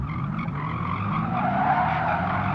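Tires squeal and skid under braking in the Gran Turismo 7 racing game, driving through a city centre. A short, continuous screech rides over the engine hum.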